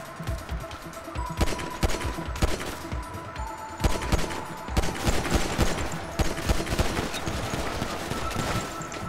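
Rapid bursts of gunfire in GTA Online, crowded repeated shots crackling across the whole span, loud and close with layered game noise underneath and no talk.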